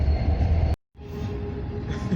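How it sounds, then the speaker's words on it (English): A train passes nearby as a steady, loud rumble and rushing roar, briefly cut off and then resuming at a slightly lower level. "There's a train."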